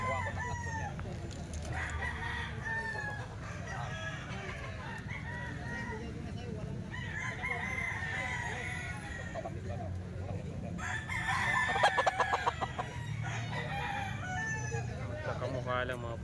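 Eight-month-old stag roosters crow and cluck in a grotto, with repeated crowing and clucking from several birds at moderate distance over a steady background hum, one crow louder near the middle.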